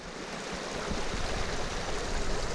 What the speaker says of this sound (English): stream right here is being fed by water just gurgling out of the mountainside, which is just all rock